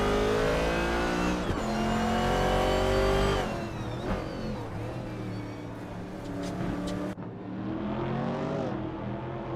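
Racing video game cars including a 1970 Plymouth Barracuda and vintage Firebirds, loud continuous engine drone that rises and falls in pitch as the cars rev and shift, with a brief squeal and passing whooshes.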